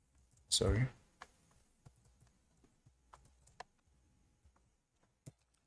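Code is typed into VS Code on a computer keyboard: sparse, quiet key clicks spread across the stretch, with a short burst of voice near the start.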